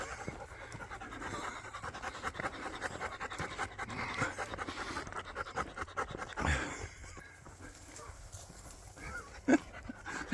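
A dog pants rapidly and steadily close by on a walking trail along the Cotswold Way, quick rhythmic breaths with some scuffing and rustling, a sharp knock near the end.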